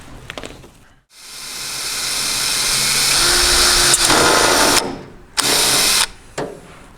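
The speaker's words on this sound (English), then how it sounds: "Now before I drill my next hole, I'll get the screw in there." A power drill bores through the window frame of a 1955-59 Chevy or GMC truck, with a loud, close whine that ramps up and holds for several seconds, followed by two short bursts of the motor.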